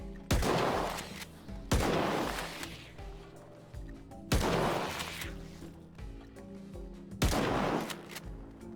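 Heavy gunfire in the video game S.T.A.L.K.E.R. 2: four loud booming shots spaced roughly one and a half to three seconds apart, each trailing into a long rumbling echo over a steady game background.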